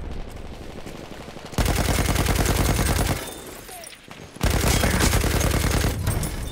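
A light machine gun fires in the Battlefield video game, producing two long, dense sustained bursts of rapid automatic fire that sound loud and close, separated by a brief quieter gap.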